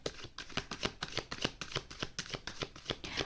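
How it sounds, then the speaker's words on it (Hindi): Tarot cards are shuffled by hand in quick, rhythmic riffling bursts, close and crisp, repeating about every quarter second with nobody speaking. "सामने सामने ही मैं सारे कार्ड्स निकाल रही हूँ"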